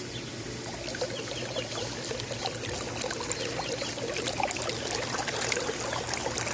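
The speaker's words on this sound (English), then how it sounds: "That's some powerful water right there. Some good pressure." Strong jet of water gushing from the return outlet of an Intex pool sand filter pump, a steady, loud rushing and splashing that continues without pause and with no talk over it.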